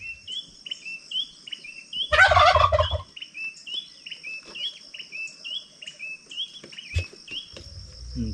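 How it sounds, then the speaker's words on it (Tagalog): A wild red junglefowl (labuyo) crows once in the mountains on a foggy morning, a short rough burst against constant high insect chirping and repeated bird tweets, fairly near, with no talk. "may manok na labuyo"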